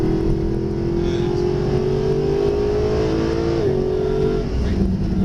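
A Mercedes SLS AMG engine pulls hard at full power on track, a loud, steady rising drone that climbs in pitch, briefly dips as if shifting, then continues.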